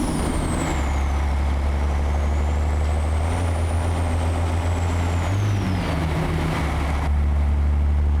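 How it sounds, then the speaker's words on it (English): A heavy truck engine in American Truck Simulator drones low and steady with the Jake brake engaged, its deep rumble shifting pitch partway through under a faint high whine. "I'll turn the Jake brake on when we're goofing around"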